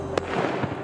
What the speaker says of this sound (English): I love the noise of fireworks.